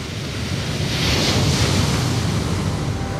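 Sea waves roll and break in a loud, continuous wash of surf, swelling slightly in the middle, with wind rumble buffeting the microphone throughout.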